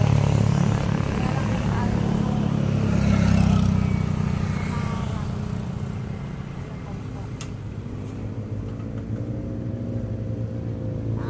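Engine traffic rolls past on a sunny roadside, a low continuous motor drone swelling and fading as vehicles go by, with a voice talking over it.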